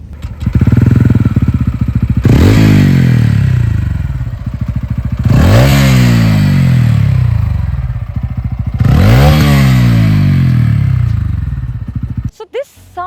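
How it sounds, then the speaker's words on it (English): A TVS Ronin motorcycle with a 225cc oil-cooled engine idles loudly and close, blipped three times into rising revs that sweep up and fall back, ending in a short clatter. "the Ronin is running a 225cc oil-cooled engine, and this is what it sounds like."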